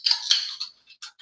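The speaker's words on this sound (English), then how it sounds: "Let's crack a beer." Two quick metallic cracks and clinks of beer cans opened and clinked close by, followed by a few faint, brief taps, all in a quiet space with no voices.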